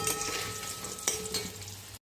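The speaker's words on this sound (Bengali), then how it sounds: "এখন কড়াইতে তেল দিয়ে আলুগুলোকে লাল লাল করে ভেজে নেব।" Marinated potatoes fry in hot oil in a wok for a chicken kosha dish, giving a steady close sizzle with a few stirring clatters.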